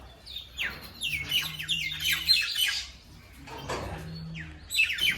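Several birds squawk and chirp in trees near a temple, their harsh, overlapping calls coming in bursts at moderate distance, with a low background hum and no talking.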